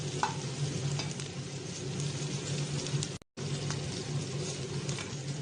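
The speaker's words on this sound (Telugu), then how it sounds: "మొత్తం అన్నీ వేసుకొని వేయించుకోవాలి" Mint leaves and cashews sizzle and crackle steadily in a hot pan, with occasional stirring scrapes and a brief cut near the middle.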